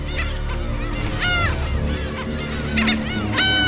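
Black-tailed gulls call in a loud, dense chorus around a sea cliff, their repeated harsh honking cries overlapping continuously with no pauses.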